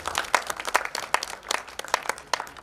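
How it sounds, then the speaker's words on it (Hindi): Light, scattered applause from a small audience at a book launch event, individual claps audible in an uneven rhythm, fairly quiet with no talk over it. "एक बार तालियां बजा दें VVS यादव।"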